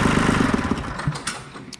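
Kubota diesel engine, loud and near at first with a rapid chugging pulse, then fading into scattered mechanical clatter and knocks.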